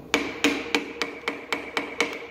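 The back of a hammer taps steadily on a part during assembly, eight sharp metallic knocks about a third of a second apart, close and evenly spaced with a slight ringing tail.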